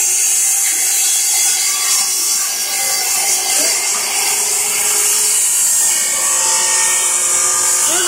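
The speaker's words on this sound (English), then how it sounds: "We're improvising with the drill right here." A high-pitched power drill whines steadily throughout, a continuous buzzing drone with faint scraping underneath.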